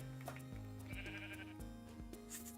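Sheep bleating in a video game, a few short nasal bleats over steady tonal game music, moderately loud and with no talking.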